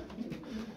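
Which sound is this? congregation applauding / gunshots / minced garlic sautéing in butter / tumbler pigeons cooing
tumbler pigeons cooing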